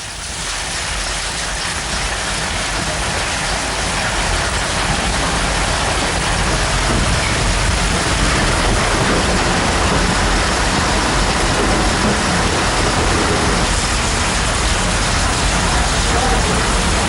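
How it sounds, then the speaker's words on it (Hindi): Heavy rain mixed with falling hailstones in Jaisalmer, a dense, loud, continuous hiss and clatter that stays steady throughout without pause. "जैसलमेर की तस्वीरें हैं जहां पर जबरदस्त बारिश के साथ ओले गिरे हैं"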